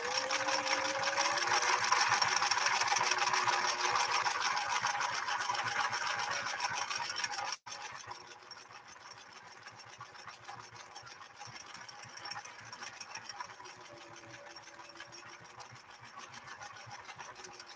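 A 1968 Singer Model 626 sewing machine runs at a steady fast stitching whir, louder for the first seven seconds, then briefly stops and carries on slightly softer.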